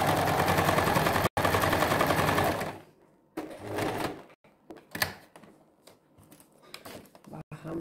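A sewing machine stitches a zipper into a garment, running in a loud steady whir for nearly three seconds with one brief stop, then quieter intermittent clicks and short bursts of stitching.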